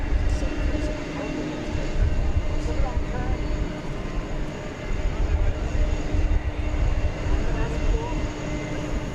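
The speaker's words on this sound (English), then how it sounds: "that roar of the revving engines" Airplane engines rumble and roar in a broad, steady wash on a runway at DFW Airport, holding at a constant level with no clear peaks.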